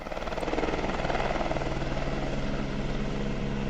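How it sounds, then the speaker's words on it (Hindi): A helicopter ferrying loads between the mountains around Kyanjin in the Langtang Valley, Nepal, gives a loud continuous rotor thrum with a rapid blade chop that holds steady throughout, with no voices. "क्यांजिन के पहाड़ियों के बीच लोड फेरी करता हुआ एक हेलीकॉप्टर"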